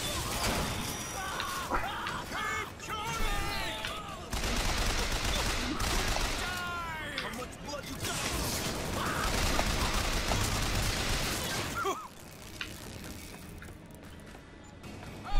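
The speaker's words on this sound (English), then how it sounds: "Oh, who's shooting me?" Dense, continuous gunfire and explosive bursts from the game Bioshock Infinite, with rapid shots, crashes and whooshes filling the scene loudly before thinning out near the end, mixed with game voices.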